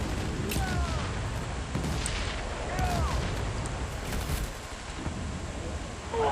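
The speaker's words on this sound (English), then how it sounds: "The secondary fire is the rocket launcher." Battlefield 1943 infantry combat on Iwo Jima with rocket launcher secondary fire: dense, continuous booms and distant gunfire crackle steadily throughout, with brief whistling tones layered over the loud battle din.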